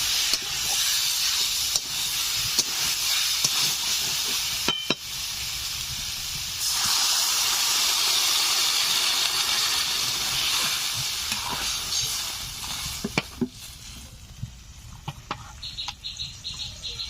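Water poured into a hot pan of village-style small fish curry sets off a loud, sustained hiss of steam that swells, holds for several seconds, then gradually settles into a softer sizzle with a few light taps.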